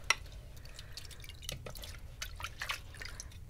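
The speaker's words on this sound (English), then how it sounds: "Wash my brush." A paintbrush being washed in a jar of water during painting: a few light splashes, drips and clinks of the brush against the container, close and quiet.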